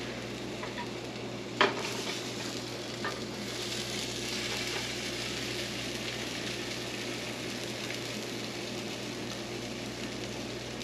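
A rolled egg omelette cooks in a hot pan with a steady soft sizzle like light rain, plus one sharp tap near the start, close and even throughout.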